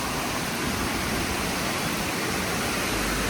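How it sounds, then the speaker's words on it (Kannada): Stream water rushes loudly and continuously at Pilikula, a dense, close hiss like a fast-flowing stream, with no voices. "ನೀರು ಇಲ್ಲಿ ರಭಸದಲ್ಲಿ ಬರ್ತದೆ ನೋಡಿ, ಅಲ್ಲಿ ತೊರೆ ಆ ಕಡೆಯಿಂದ"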